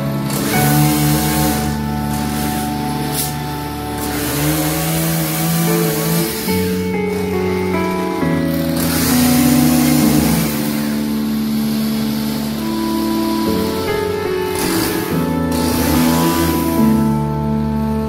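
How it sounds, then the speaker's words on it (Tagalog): Grass cutter engine running steadily for the whole stretch, a continuous buzzing drone with a wavering pitch that rises and falls as the load changes, close and loud, with no talking. "Grass cutter,"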